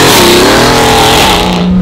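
A twin-turbo Ferrari F12 engine revs hard and loud, close by, in one sustained high-pitched rising roar.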